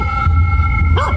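A small chihuahua gives a short, high yip or bark near the end, brief and close, following a steady hum of background noise.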